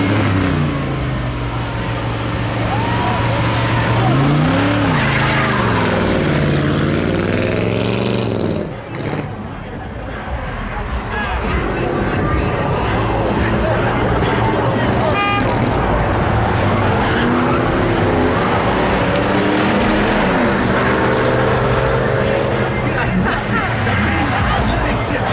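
A classic car revving hard and skidding with squealing tires in a street where traffic has stopped, its engine loud and close with rising and falling revs, under crowd chatter and shouting.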